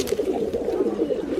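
Pakistani high-flyer pigeon held in the hand, cooing: a close, low, throaty warbling coo that keeps rolling for the whole moment, with no speech.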